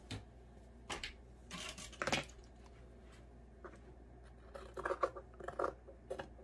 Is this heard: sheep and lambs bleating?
no